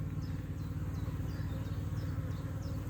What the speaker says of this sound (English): Bees are all out in force.